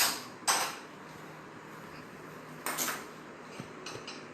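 A cooking pan handled on a home stove, quiet metallic clatters and scrapes in a couple of short bursts with small knocks between, faint and close.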